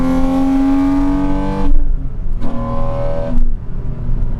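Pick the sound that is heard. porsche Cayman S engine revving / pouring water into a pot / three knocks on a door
porsche Cayman S engine revving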